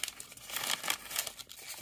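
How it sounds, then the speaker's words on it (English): Packaging material around a new gas mask filter is unfolded, giving faint, close crinkling and rustling in short bursts. "So let's unfold this packaging material here."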